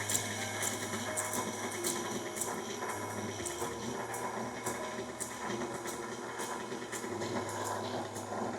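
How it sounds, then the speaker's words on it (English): A kitchen electric mixer runs on low speed while mixing cookie dough with flour, giving a steady mechanical whir with faint rhythmic clicking throughout, moderately quiet. "We're gonna keep our mixer on low so it doesn't go up in a big puff."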